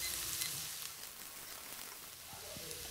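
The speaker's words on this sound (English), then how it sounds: "30 grams of minced garlic, 1/4 cups of ground lemongrass, and stir until garlic turns light golden" Minced garlic and ground lemongrass sizzle steadily in hot oil while being stirred, a continuous close crackle with faint scraping through the whole stretch.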